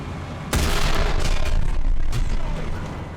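A tank gun fires in War Thunder with one sudden heavy boom and a sustained rumbling tail. A lighter thump follows a moment later before the roar fades.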